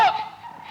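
Chickens being fed give a short, loud squawking call up close, followed by a faint trailing cluck as the sound fades out.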